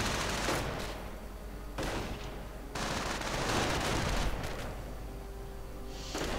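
Rifle fire crackles through a World War II-style strategy game battle, with bursts of dense gunfire and booming impacts layered over continuous background battle noise.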